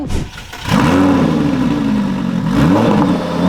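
A Lamborghini sports car, either a Gallardo or a Huracan EVO, fires up and revs loudly close by, rising to a sustained roar that dips briefly and then climbs again as it pulls away.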